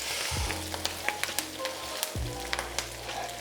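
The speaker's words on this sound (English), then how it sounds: "we're going to saute the spinach" Spinach sautéing in a hot pan gives a steady close sizzle, with sharp stirring clicks and scrapes at regular intervals and a brief dip midway before the frying hiss resumes.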